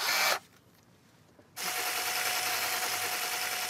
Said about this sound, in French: Et ce mixeur à smoothie, qui tourne à la perceuse.